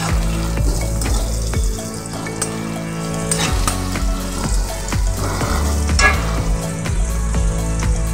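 Chopped onion frying hard over a high gas flame, with a steady loud sizzle running throughout and occasional stirring scrapes. No talking.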